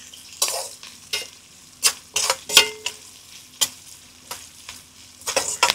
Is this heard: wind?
no